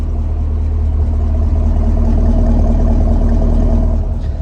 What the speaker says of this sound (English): listen to that engine right there.